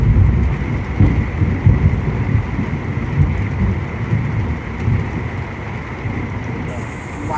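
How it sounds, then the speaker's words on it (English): Heavy thunderstorm at a campground, with torrential rain roaring steadily and low rumbling thunder, loud and close throughout. "Thunder, lightning, and torrential rain"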